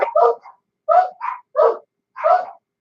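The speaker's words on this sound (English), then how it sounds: "You hear my monster dogs out there barking." Dogs barking outdoors in Mt. Juliet, Tennessee: four short bursts of two or three barks each, separated by brief pauses, fairly close and clear with no talk over them.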